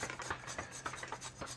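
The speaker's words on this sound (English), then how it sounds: "if you really want the flavor, grate it yourself fresh. Whole nutmeg, whole cinnamon sticks," Whole nutmeg is grated on a microplane for a New Orleans king cake, giving quiet, close, rhythmic rasping strokes in quick succession.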